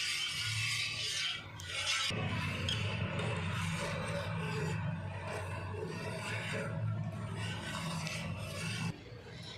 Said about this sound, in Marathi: आता हे आपल्याला आटेपर्यंत ढवळत राहायचं